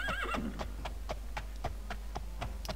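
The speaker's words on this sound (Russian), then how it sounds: "Давно не слушал этого игогошения." A horse in the game Daggerfall neighs with a wavering whinny at the start, then its hooves clip-clop in a steady, evenly spaced rhythm over a low constant hum.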